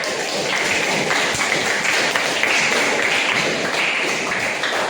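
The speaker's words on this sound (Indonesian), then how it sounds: "Oke, tepuk tangan untuk Ibu." A classroom of students applauds their teacher, a dense, steady wash of many hands clapping at once that holds at an even, fairly loud level throughout.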